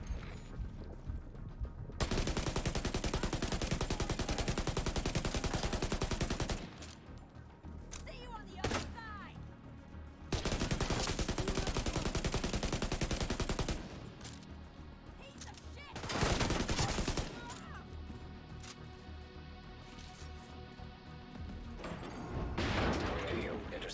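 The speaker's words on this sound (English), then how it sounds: "I hear gunfire." Sustained bursts of automatic rifle fire in The Division 2, long loud volleys separated by short gaps with quieter game sounds and faint voices between them.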